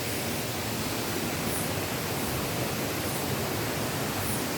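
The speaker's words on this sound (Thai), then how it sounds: "มีเสียงน้ำตกนะฮะ" A waterfall in a deep forest roars steadily without pause, a broad constant hiss of dense rushing water nearby.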